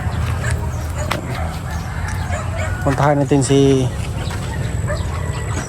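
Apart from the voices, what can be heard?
chickens clucking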